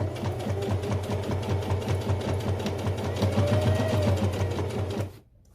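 A hand-cranked sewing machine stitches down the sides of a beginner's fabric pouch with a steady, close, rhythmic clatter for about five seconds, then stops abruptly.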